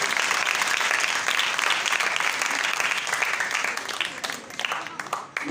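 An audience in a church gives steady, dense applause during a Holy Thursday service; the clapping is sustained and fairly close, then thins slightly toward the end.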